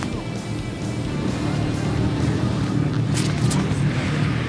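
Motorcycles on the road at a bike rally, a steady close engine drone and rumble with passing bikes blending together, continuous and fairly loud with no clear talk.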